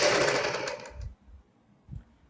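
Sewing machine stitching a kurti neckline, a brief fast whirring run that stops abruptly after about a second, followed by a couple of soft low thumps in near silence.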